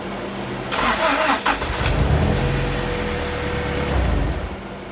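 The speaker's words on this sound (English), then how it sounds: "I'm gonna shut the engine off, start it back up," A car engine with low compression and blow-by cranks briefly and catches, settling into a steady idle with a slight rev, close and loud with no talking.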